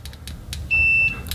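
A steady electronic continuity beep from an AstroAI DT202 clamp meter in diode/continuity mode with default test leads, sounding once for about half a second, close and clear over faint background noise.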